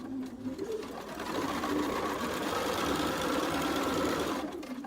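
A home sewing machine stitching quilt pieces with the fabric under the presser foot, a steady close mechanical whir that ramps up and runs continuously before easing off at the end.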